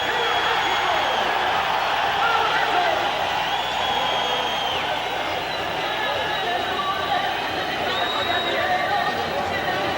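A packed boxing arena crowd is in a constant loud roar of cheering, shouting and whoops, a dense wall of voices that never lets up, with commentary faintly underneath.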